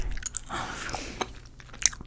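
Bubblegum is chewed right up against the microphone in an ASMR style, giving wet, squishy smacks and soft clicks in an uneven rhythm, with one sharper snap near the end and no talking.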